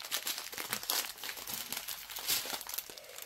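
Steady crinkling and rustling of small plastic bags of diamond painting drills being handled close by, continuous with no talking.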